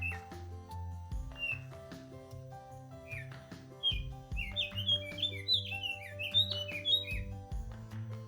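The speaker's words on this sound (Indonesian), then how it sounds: "disambut burung kacer gunung yang riang menyambut tim ekspedisi Gunung Merbabu Komparle" Mountain kacer birds sing on the slopes of Mount Merbabu, trilling and chirping in quick overlapping phrases above a low steady hum, growing busier and louder toward the end.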